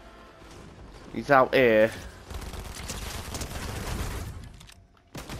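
Gunfire in Fortnite, a short loud burst of rapid shots near the start followed by a longer rumbling spell of battle noise, with a player talking in the clip.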